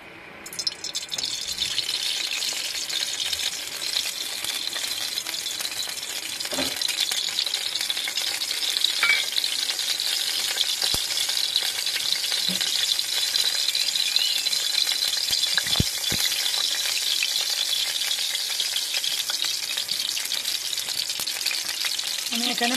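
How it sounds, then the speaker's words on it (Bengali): Mustard oil heating in a hot wok over a gas flame, a constant bright hiss and crackle close by with occasional faint clinks, no voices. "আমি এখানে পরিমাণ মতন সরষের তেল দিয়ে দিলাম।"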